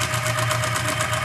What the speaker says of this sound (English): And then I'll just sew 1/4 inch seam across there.